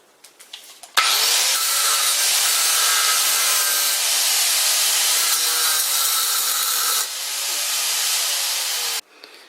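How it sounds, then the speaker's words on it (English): A grinder bites into an aluminium lathe pulley with a loud, continuous abrasive roar that holds steady for about eight seconds, dips slightly near the end, then cuts off, after a few faint knocks at the start. "Grinding aluminium is a messy job, but it's the best I can think of to remove this pulley."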